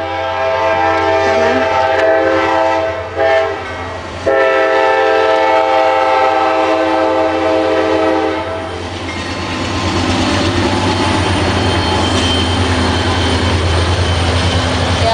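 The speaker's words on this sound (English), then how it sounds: "Here was the train." A train rumbles past close by, a steady heavy roar with a brief horn blast early on and rattling wheels, fading slightly then swelling again.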